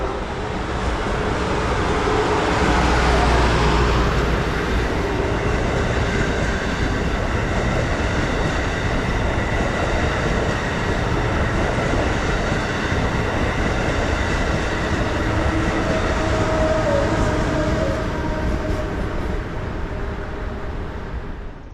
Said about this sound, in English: 2254 passes through long afternoon shadows eastbound on Track 2